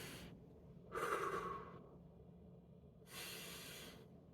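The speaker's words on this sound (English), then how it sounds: "inhale through your nose, exhale through your mouth. We're gonna do 5 breaths." Slow deep breathing during an office workout cool-down: a nasal inhale followed by a longer mouth exhale, then another inhale, close and soft with quiet pauses between breaths and no talk.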